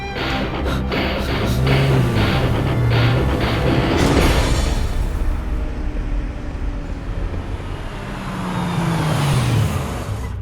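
A car engine revs and pulls away, rising in pitch as it accelerates, then passes and fades before another vehicle swells in near the end, with no talk.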